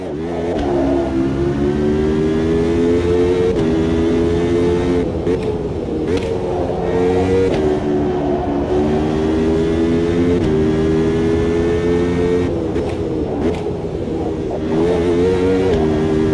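A race car in Automobilista 2 revs hard through its gears, the engine note climbing steadily and then dropping sharply at each downshift, loud and continuous with a sharp snapping crack on the shifts.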